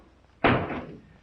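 A door slams shut once with a loud, sharp bang and a short rumbling decay, then the room goes quiet.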